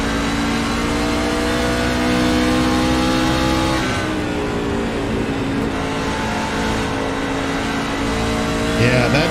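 Race truck engine running hard on the Bristol short track in a SERL Truck Series race, a steady loud multi-tone drone with gear and pitch shifts as the loose truck enters a corner, with faint commentary underneath.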